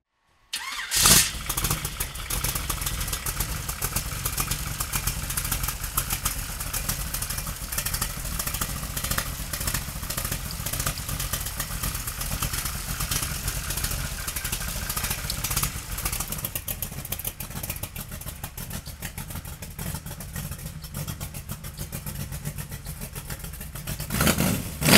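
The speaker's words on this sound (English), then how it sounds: "we're gonna fire this stroker motor up for you right now" A 1931 Ford street rod with a stroker motor cranks and catches, then idles loud and rough with repeated blips of revving, a steady throaty rumble close by for the whole stretch before a final surge.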